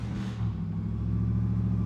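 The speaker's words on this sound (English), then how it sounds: "Listen to that horrible exhaust. That is the worst sounding exhaust." A neighbor's car with a loud, bad-sounding exhaust rumbles steadily nearby, a deep droning idle with a slight rev at the start, heard alone without talk.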